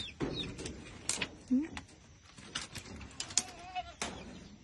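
Scattered goat bleats on a rural farm, some near and some farther off, mixed with bird chirps and faint voices in a quiet outdoor setting.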